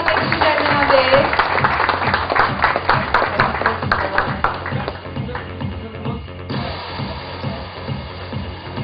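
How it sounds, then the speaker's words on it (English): Applause from an audience at a corporate ceremony unveiling a Delhi Daredevils gold coin, a dense, steady wash of many hands clapping close by that thins out slightly toward the end. "we have a huge round of applause, ladies and gentlemen, on this."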